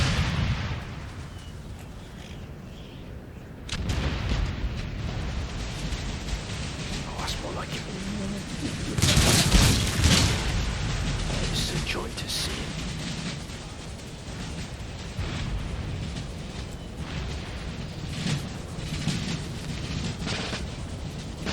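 Cannon fire and explosions in Empire: Total War during a battle with US Marines against a huge enemy force, repeated booms and rumbling bursts, some loud and near, others distant, under steady talk by a man.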